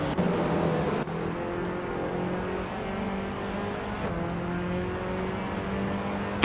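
Continuous engine drone of a 2007 Honda Civic FA race car in a racing video game, steady sustained tone with a brief dip, loud and constant with no talk.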